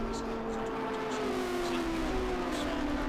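GT race cars at Road Atlanta during an SVRA International GT sprint race drone faintly at the finish line, their steady engine tones sitting under commentators talking.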